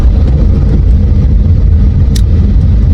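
A car crawls through heavy, nearly stalled traffic, its engine idling and revving in a loud, continuous low drone, with a brief sharp click near the end.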